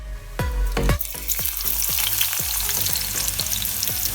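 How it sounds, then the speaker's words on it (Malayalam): Small onions hitting hot coconut oil in a heated clay pot, a steady loud sizzle with a few sharp scraping strokes early on, then repeated rhythmic stirring scrapes over the frying hiss. "വെളിച്ചെണ്ണ ചൂടായതിനു ശേഷം ഇട്ട് കൊടുത്തത് ചെറിയ ഉള്ളിയാണ്"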